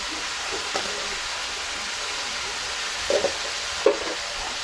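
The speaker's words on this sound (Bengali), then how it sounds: "এখন একটু নেড়ে দিব।" Rohu fish curry with potatoes and beans sizzles steadily in a pan as it is stirred, a constant loud frying hiss broken by a few soft scraping knocks of the spoon.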